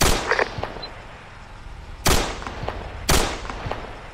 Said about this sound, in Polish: Skąd te strzały?